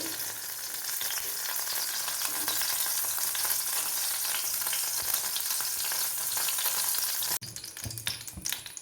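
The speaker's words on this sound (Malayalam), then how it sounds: "എണ്ണ ഒഴിച്ചു, കടുകിട്ടു, അല്പം ജീരകവും ഇട്ടു" Mustard seeds and cumin sizzle and crackle in hot oil in a pan for a cabbage stir-fry, a loud, dense spitting hiss that holds steady, then drops abruptly and continues more sparsely.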